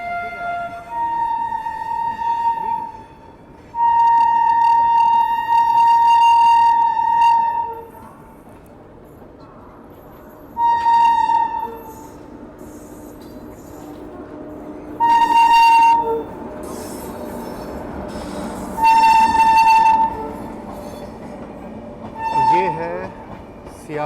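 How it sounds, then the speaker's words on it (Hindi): Express train overtaking on the adjacent track while riding aboard another train, with repeated loud horn blasts over a steady rumble of wheels and carriages, and voices talking faintly underneath. "यहाँ तो कोई ट्रेन गाज़ियाबाद को स्किप कर रही है और हमें ओवरटेक कर रही है।"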